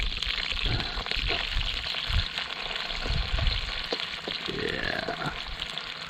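Potatoes fry in a wok set over a campfire, giving a steady, loud sizzle with crackles and occasional stirring scrapes throughout, near and continuous, with faint talk beneath.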